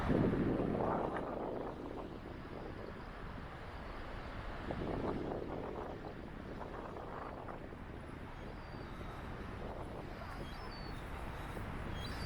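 Breezy wind buffets the microphone outdoors on a seaside pier, a steady low rushing roar that swells in gusts at the start and again midway.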